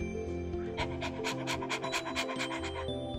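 Luna, a dog in the Choices story game, pants in quick, steady breaths through about three seconds, close and clear over a soft sustained music bed, with no talking.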